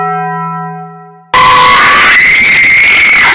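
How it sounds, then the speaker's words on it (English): A very loud, sustained scream suddenly bursts in after a fading bell-like tone, piercing and constant until the end, alone with no talk. "That scream was so loud that I think all of MineCrafty heard all about it"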